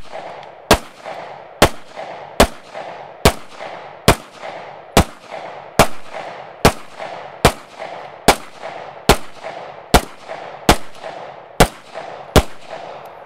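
A handgun fires a long steady series of about sixteen loud, sharp shots at an even pace while the shooter moves, each crack followed by a short echoing decay, with no talking.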